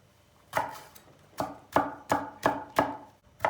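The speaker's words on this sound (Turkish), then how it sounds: "Soğanın içine tabandan iki diş sarımsak doğruyoruz." A knife chops garlic on a cutting board in six or seven sharp, evenly spaced strikes, close and clear with no talking.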